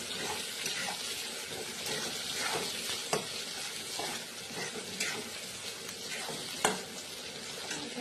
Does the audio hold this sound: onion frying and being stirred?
yes